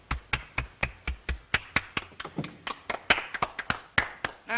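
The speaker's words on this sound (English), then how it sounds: "Applaud." Applause from a small group, a few dozen uneven claps spread over several seconds, fairly close and with no talking.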